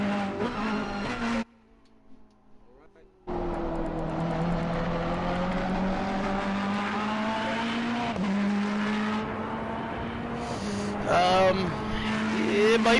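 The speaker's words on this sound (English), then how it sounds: "Drew running around in the Ferrari." A Ferrari GT3 race car driven at Brands Hatch, loud engine notes rising and falling with gear changes and a brief drop in sound partway, while commentators talk over it.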